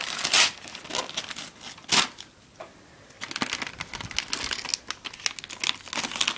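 Paper tearing open on an envelope holding concert tickets, with sharp crinkling and ripping bursts close by, two loud tears early then a longer stretch of rustling and crumpling.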